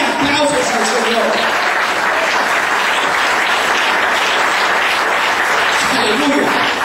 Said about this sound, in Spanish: Ofrenda de aplausos al Señor